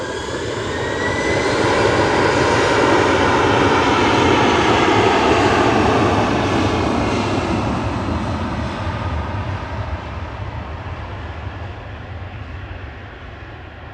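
A Helvetic jet in Air Baltic livery arrives at Manchester Airport from Zurich, its engines a loud, whining roar with descending tones that builds, peaks close by and slowly eases off, with no talking.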